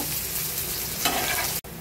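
Sliced onions fry in oil until deep brown for beef nehari, a steady close sizzling hiss with light stirring throughout, briefly cut off near the end before resuming.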